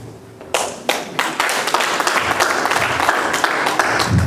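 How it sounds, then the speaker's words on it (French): An audience at a community association's board presentation in Montreal bursts into applause, scattered claps quickly swelling into steady, loud, close clapping that continues throughout. "on applaudit encore très fort"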